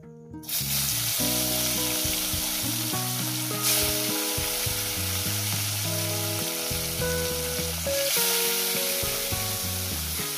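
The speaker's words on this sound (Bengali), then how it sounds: "তিনটে করে দিয়ে ভাজছি।" Fish pieces fry in oil with a loud, continuous sizzle and crackle that carries on alone throughout, under a steady musical tone-like hum.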